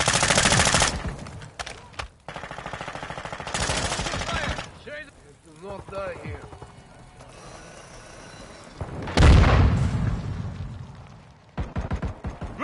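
Rapid gunfire bursts in the Call of Duty video game, loud and dense at the start, again around four seconds and in a heavy burst near nine seconds, with softer mechanical clicks and faint game voices between volleys.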